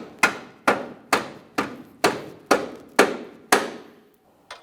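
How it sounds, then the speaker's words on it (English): A rubber mallet strikes a front lower control arm on a 2008-2017 Mitsubishi Lancer, tapping it into position with eight sharp, evenly spaced blows and a lighter final tap, close and loud with no talking. "use a rubber mallet on the control arm, never on the ball joint itself"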